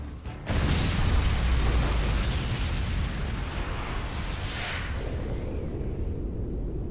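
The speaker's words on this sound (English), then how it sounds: "Friendly MOAB incoming." A huge MOAB blast in a video game erupts as a loud, deep, sustained boom that rumbles on for several seconds and never fully dies away.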